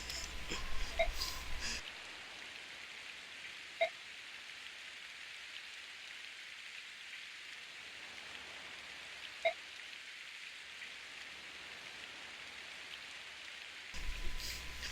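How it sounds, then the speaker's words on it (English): Steady rain hisses across a battlefield in the video game Fire Emblem: Path of Radiance, a continuous even wash with a few faint isolated ticks and no speech over it. "So we're gonna fight on a rainy battlefield"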